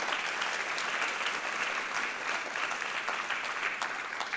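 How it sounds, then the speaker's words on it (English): An audience applauds at the 2023 Los Angeles County Arts and Health Week presentation, a dense, even wash of clapping that holds steady at moderate loudness throughout, with no speech on top. "Please, one more round of applause for all the partners today"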